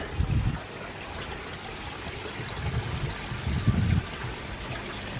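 Gentle, continuous trickling water from a 75W solar fountain pump with a water blade outlet, with a few louder splashing bursts, fairly close.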